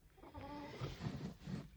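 A broody hen gives low, soft clucks in a few short bursts, heard close and on its own with no talk over it.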